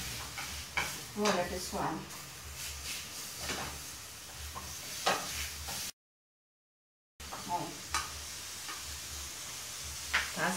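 Sausage frying in a dry pan with no oil, a steady sizzle with scraping and stirring clatter, broken by a brief gap, while someone talks over the cooking.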